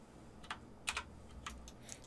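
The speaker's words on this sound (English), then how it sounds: "Hitting 6 on my keyboard just to see the textured mode." A handful of computer keyboard key presses clicking close by in a quiet room, a few light taps and a quick double click spread across about two seconds, with no talking.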